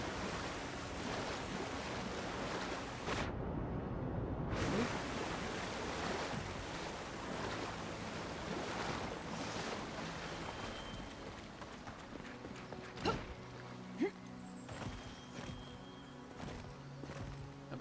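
Waterfall in the video game Avowed, a steady broadband rush of falling water that fills the scene continuously at moderate level, with a few faint clicks and thumps near the end.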